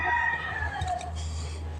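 Chickens on a small farm with egg-laying hens, a drawn-out crowing call followed by soft clucking and a brief sharp sound at the end, fairly close with no talking.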